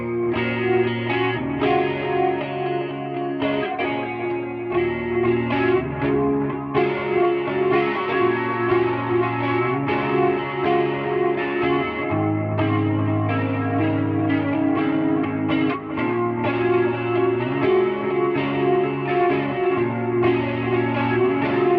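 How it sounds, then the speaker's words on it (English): An electric guitar plays through the chorus effect of a Sonicake Matribox II multi-effects unit, a sustained strummed sound with shimmering, slightly distorted tone, steady and close, without voices. "So let's switch on the chorus for a bit."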